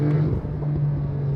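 A 2022 Porsche 911 Targa 4 GTS of the 992 generation sends out a loud, steady exhaust drone close by, deep and continuous with a slight swell in the middle and no voices.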